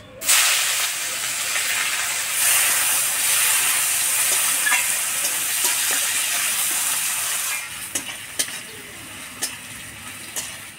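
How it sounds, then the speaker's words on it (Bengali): Chopped onion fries in hot oil with whole garam masala, dried chillies and bay leaves, a loud, steady sizzle and hiss that eases off near the end, with a few stirring clinks. "পেঁয়াজটা তেলের মধ্যে হালকা লাল লাল করে ভেজে নিলাম।"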